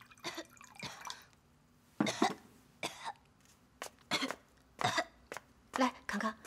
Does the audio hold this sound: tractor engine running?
no